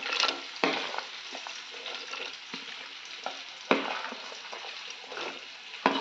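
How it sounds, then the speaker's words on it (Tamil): Chopped snake gourd being added to a pan and stirred, giving soft frying sizzle under irregular scraping and spoon strokes, close and moderately quiet, with one sharper clatter midway. "இப்போ நம்ம புடலங்காயை சேர்த்திக்கலாம்"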